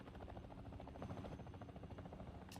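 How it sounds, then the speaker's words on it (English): A transport helicopter in the video game Call of Duty Warzone drones steadily with a continuous rotor buzz and rumble, moderately loud and unchanging throughout. "the helicopter that's taking me in"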